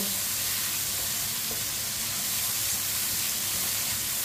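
Tomatoes softening in a hot pan for tinday sabzi give off a steady, even sizzle that holds at one level throughout, close and with no talking.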